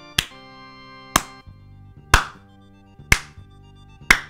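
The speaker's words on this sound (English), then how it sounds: "Have a round of applause." Five slow, evenly spaced single claps ring out loud and close, about one per second, each followed by a brief decay, like a sarcastic slow clap.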